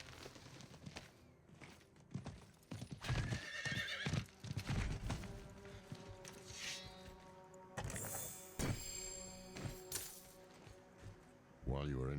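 In the Diablo IV video game, a horse gallops with busy clip-clop hoofbeats and gives a loud whinny, mixed with thuds and game sounds while a voice talks over it.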